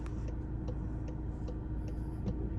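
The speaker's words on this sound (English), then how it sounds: "Car starts to indicate." A Volkswagen Tiguan's turn indicator ticks in a quick, regular rhythm of about six crisp clicks, close by and faint against the low hum of the car's interior.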